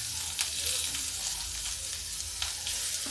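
Chopped onions hit a hot pan of oil with garlic for a ridge gourd curry, giving a steady, close, dense sizzle that carries on without a break and with no voices.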